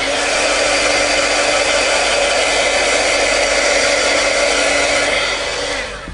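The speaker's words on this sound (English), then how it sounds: "dry it with a heat gun" A heat gun blows steadily and loudly on freshly stamped ink, a continuous airy whoosh with a motor whine that holds for about six seconds before easing slightly at the end.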